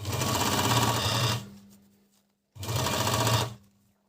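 An Agat DonLock overlock sewing machine stitching knit fabric runs in two loud, steady bursts of rapid mechanical whirring, each about a second and a half long, with a short quiet pause between them.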